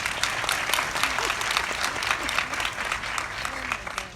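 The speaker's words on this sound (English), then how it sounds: "So let's give them a round of applause." An audience at a women's wealth event gives a steady round of applause, dense clapping running throughout at moderate distance with faint voices mixed in.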